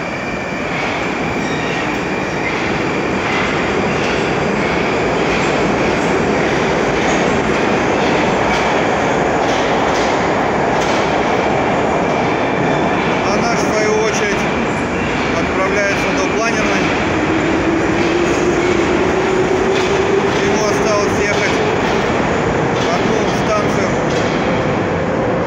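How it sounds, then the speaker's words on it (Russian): A Moscow metro train departs Skhodnenskaya station, rumbling loudly and steadily, its noise swelling as it pulls away, with wheels squealing and clattering on the rails. "Поезд по соседнему пути поехал в центр."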